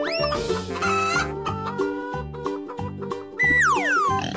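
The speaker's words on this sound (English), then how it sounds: "Chicken." Cartoon farm chicken clucking in a quick series of sharp calls over a bouncy musical backing, with a sliding boing-like effect near the end.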